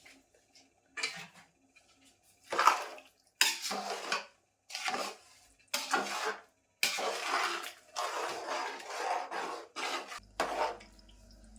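A spoon stirs a large batch of semolina cooking in hot milk in a metal pot, giving about nine loud, rhythmic scraping strokes against the pot, each separated by short pauses.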